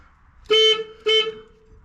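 Two loud, close honks of an overload clutch sensor's electronic warning horn on a Bizon combine's straw chopper, each about a quarter second long with a short gap between them.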